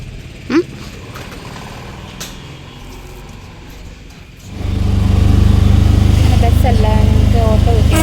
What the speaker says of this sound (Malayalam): ബസ്സല്ല, ഞങ്ങൾക്ക് ഓട്ടോ കിട്ടിയത്.